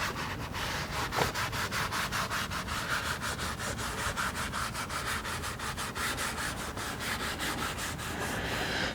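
A sponge scrubs the vinyl trim inside a Lotus Emira, making a steady, close rubbing rasp in quick repeated back-and-forth strokes that run the whole way through with no talking.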